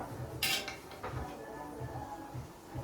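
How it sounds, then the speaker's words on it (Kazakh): Spoons and dishes clink softly at a home meal for guests, with one brighter clatter early and light scattered taps over a low room hum. "Қасықтар бар, иә."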